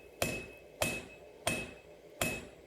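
A 32-ounce ball peen hammer striking a steel knife blade on an anvil, four sharp ringing blows at an even, unhurried pace, each with a brief metallic ring, loud and close with no talk.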